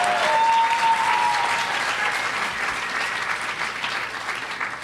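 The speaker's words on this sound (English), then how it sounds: "Cheer for me really fast." Audience at an event in a Contemporary Art Museum bursts into loud, sustained applause with scattered cheers. The clapping is dense and steady and slowly fades over a few seconds, with a brief whistle-like tone early on.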